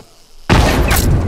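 Bomb going off in The Last of Us Remastered multiplayer, a single sudden loud blast that erupts from quiet into a sustained roaring burst of debris and noise.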